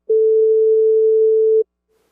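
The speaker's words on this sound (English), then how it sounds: "I hear them together, and it's just two sine waves." Two pure sine wave tones sound together as one steady, clean, mid-pitched hum that lasts about one and a half seconds and then cuts off abruptly into silence.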